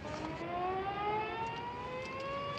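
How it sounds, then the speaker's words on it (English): A long, steady siren atop a ferry building wails continuously from a distance, its tone slowly rising, with faint outdoor ambience beneath. "the siren on top of the ferry building. Blows three times a day, just like now."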